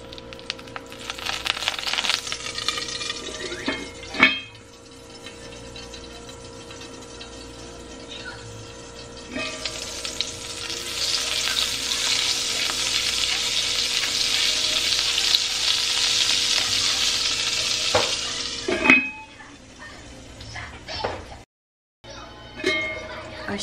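Butter sizzling in a hot frying pan, a steady broad hiss that swells loudly through the middle, with occasional clinks and short pauses, and a voice briefly heard.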